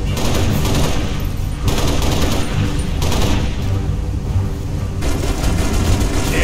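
Sustained gunfire in Halo: Reach, with dense, loud automatic weapon bursts and booms rolling continuously through a combat scene, with distant muffled voices under the shooting.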